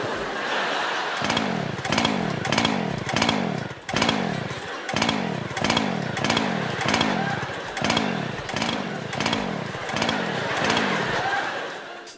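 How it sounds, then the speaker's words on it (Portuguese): Chainsaw on a stage being pull-started again and again without catching, a steady run of roughly a dozen rhythmic rasping cranking bursts, fairly loud and close, with faint voices underneath. "Mas a serra que não queria ligar aumentou ainda mais a tensão no auditório."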